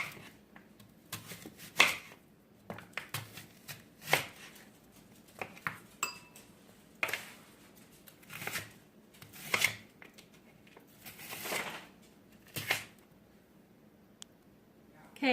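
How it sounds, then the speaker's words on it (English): A medium red onion is roughly chopped with a knife on a cutting board, giving a loose string of sharp, close knocks and scrapes at an uneven pace, with no one speaking. "we're going to start out by chopping up 1 red onion, kind of a medium size. And just give it a nice rough chop."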